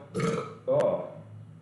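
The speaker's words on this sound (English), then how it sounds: "That's the burp." A loud burp erupts up close in a gym setting during a workout, with a second throaty belch following shortly after.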